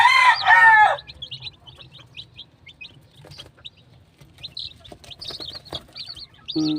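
A broodcock gamecock rooster crows loudly up close, then gives way to soft high cheeping from chicks scattered over a quiet background, followed by a short low cluck at the end.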